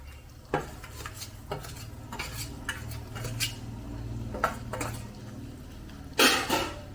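A spoon stirs fried chicken kondattam in a pan, with repeated scraping and clinking strokes close by, a faint sizzle underneath, and a sharp, loud scrape near the end.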